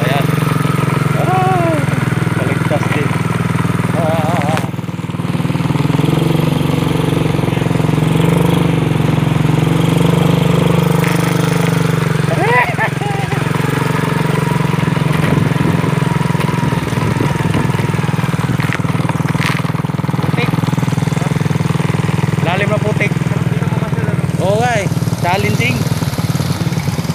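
Motorcycle engines run steadily on a muddy mountain trail in Montalban, a constant close rumbling drone with occasional revving, while voices talk over it throughout.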